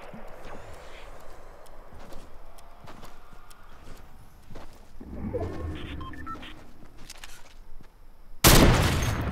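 Gunfire from the Fortnite video game, including a heavy sniper rifle, crackles in scattered sharp shots throughout, then ends in a loud, dense burst near the end, with no talking.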